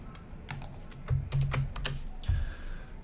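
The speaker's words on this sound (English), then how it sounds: "I will type hello in the chat again." Close, quick keystrokes clatter on a computer keyboard as a chat message is typed during an online poker session, an uneven run of clicks and taps with no talking.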